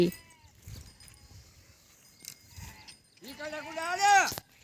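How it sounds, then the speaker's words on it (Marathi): Faint rustling and distant voices as a flock of sheep is taken out to graze in the fields alongside cows and buffaloes, then a loud drawn-out sheep bleat rises near the end, close and clear. "बघा चालले मेंढर चारायला रानात"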